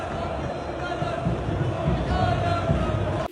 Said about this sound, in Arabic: سمعوا الجمهور المتحضر شنو تيقول.